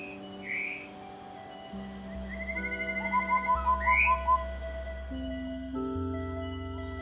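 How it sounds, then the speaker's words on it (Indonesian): A pygmy cupwing sings in a forest, a short run of repeated whistled notes rising over a steady hum of insects and other birds, fairly faint and a little distant. "Kicauannya terdengar seperti siulan berulang, ritmis, dan menggema pelan di bawah kanopi hutan."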